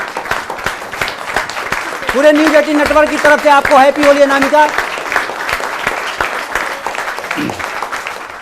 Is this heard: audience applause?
yes